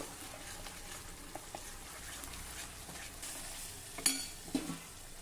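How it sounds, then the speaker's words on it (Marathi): A soft, steady sizzle of something sautéing in a pan before spinach puree is added, with water just stirred in; faint and even, with a couple of brief utensil clinks near the end. "आणि अजून एक मिनिटासाठी हे छान परतून घेऊ"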